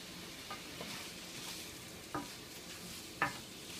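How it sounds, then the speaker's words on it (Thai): Quiet, steady sizzling of minced pork stir-frying in an electric pan, with occasional scraping clicks as it is stirred. "หมูก็เริ่มสุกแล้วนะคะ เราก็ลวนไปเรื่อยๆค่ะ"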